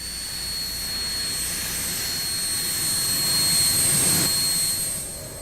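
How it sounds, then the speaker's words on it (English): A jet aircraft engine taxiing to the runway, its steady loud whine running throughout with high tonal lines and a broad roar that swells slightly near the end. "The signal is given to taxi to the runway."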